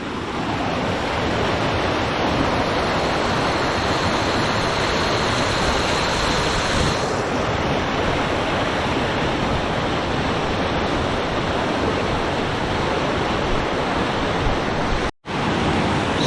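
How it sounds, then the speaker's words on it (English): A loud waterfall on a trail along Turnagain Arm in Alaska roars as a continuous, dense rush of water, close and steady throughout, with a brief dropout near the end. "Just another beautiful waterfall spot I wanted to share."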